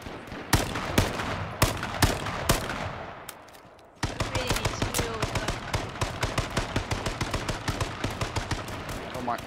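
Rapid gunfire in the battle royale game H1Z1 King of the Kill: sharp, loud shots, first in spaced bursts, then after a brief lull a steady fast stream of cracks, with players talking over it.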